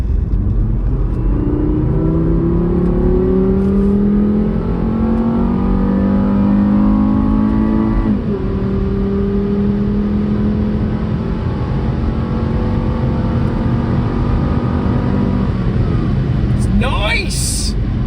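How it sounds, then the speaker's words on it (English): A five-cylinder car engine revs up through the gears with a rising, steady drone, drops, then climbs again, heard close from inside the vehicle. "That is a smooth engine."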